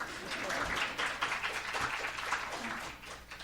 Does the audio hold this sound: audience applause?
yes